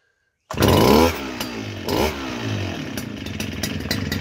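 A brush cutter's small two-stroke engine, which had been stalling at idle, fires up after a moment of silence, revs loudly, dips, rises again, then settles into a buzzing, uneven idle close by.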